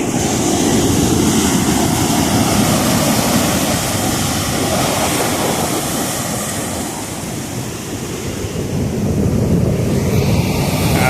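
Surf rolls steadily onto Marina Beach in Chennai, loud and close, with heavy wind buffeting the microphone and no talk.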